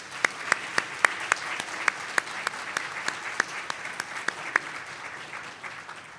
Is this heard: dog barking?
no